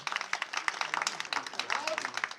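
Audience applause for an actor at a Nigerian film gathering, a dense, quick patter of many hands clapping fairly softly and slightly distant, with faint voices mixed underneath.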